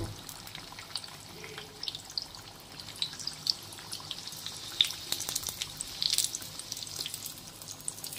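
Stuffed teasel gourd fries slowly in oil, giving a soft, steady crackle with scattered small pops that grow a little busier toward the end; no one speaks.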